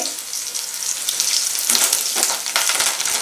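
Curry leaves with green and dried chillies fry in hot oil, giving a loud, crackling sizzle with sharp bursts and pops that rise and fall across a few seconds, with no voices.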